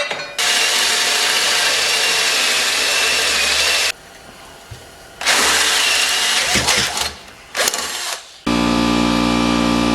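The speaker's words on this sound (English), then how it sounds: "Got my hole drilled." Power drill boring a hole in a Ford Foxbody Mustang engine bay during a turbo install, two long loud whining bursts separated by a pause, then brief short drill pulses before a different steady tone at the end.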